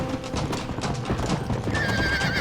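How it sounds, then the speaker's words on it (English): Horse hooves clip-clop steadily up close in the Red Dead Redemption western game, with a neigh and whinny rising over the hoofbeats near the end amid a busy, continuous game soundscape. "Get away from that horse!"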